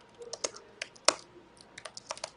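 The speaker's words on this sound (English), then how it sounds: "oops, sorry, my keyboard" A computer keyboard is typed on in quick, irregular bursts of close, crisp key clicks, with one louder keystroke in the middle and no talking.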